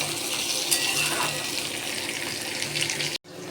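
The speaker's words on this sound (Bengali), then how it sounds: "আর এদিকে আলুগুলো গাজরগুলো দিয়ে দিলাম, একে একে দিয়ে দেবো, ভাজা হয়ে যাবে।" Potatoes and carrots crackle and hiss in a pan on a home stove, a dense, steady sizzle with a few louder pops that cuts off abruptly near the end.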